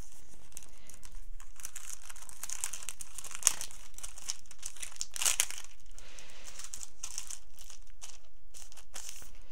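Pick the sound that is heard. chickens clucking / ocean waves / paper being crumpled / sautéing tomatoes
paper being crumpled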